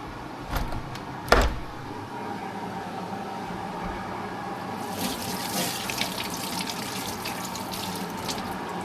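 Tap water pours steadily into a cooking pot during preparation of a chicken curry, preceded by a couple of brief knocks, with a continuous close splashing flow and no speech.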